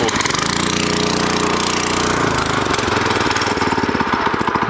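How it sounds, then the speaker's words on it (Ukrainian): A walk-behind tractor (motoblock) engine runs at full throttle right up close, a loud, rapid, pulsing chug that holds steady and shifts slightly in tone partway through. "мотоблок заводиться абсолютно легко"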